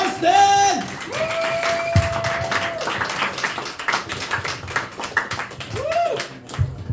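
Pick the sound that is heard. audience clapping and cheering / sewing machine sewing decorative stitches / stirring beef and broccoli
audience clapping and cheering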